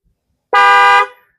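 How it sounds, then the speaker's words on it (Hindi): A single Volvo XC90 car horn honk, loud and close, lasting about half a second with a short tail as it cuts off. "इस तरीके से आपकी कार हॉर्न मारना शुरू कर देगी"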